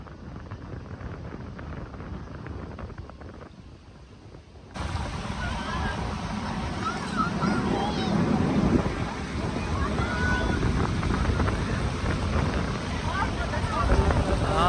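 Sea waves at Karachi's Sea View beach, a broad continuous wash of surf mixed with heavy wind buffeting close by, growing louder partway through and holding steady.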